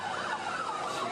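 Emergency siren wailing steadily in a rising and falling sweep during a high-speed police pursuit through city streets, loud and continuous over road noise.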